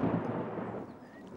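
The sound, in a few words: distant thunder in Peppa Pig cartoon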